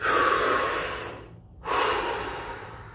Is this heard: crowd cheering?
no